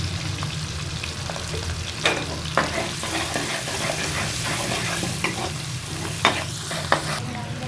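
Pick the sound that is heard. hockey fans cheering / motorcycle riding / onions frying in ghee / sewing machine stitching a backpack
onions frying in ghee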